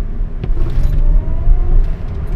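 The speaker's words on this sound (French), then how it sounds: "d'habitude avec une supercar dans le tunnel on rétrograde un rapport et on envoie" A supercar at Top Marques rumbles through a tunnel with a deep, loud, booming engine note under a short throttle blip, resonating close and heavy for a couple of seconds.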